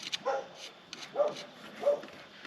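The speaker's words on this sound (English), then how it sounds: "Got some dogs barking in the background." Several family dogs bark in the background during a clutch change on a 2006 Suzuki GSX-R 600, giving three spaced bursts of barking at moderate distance with no talk over them.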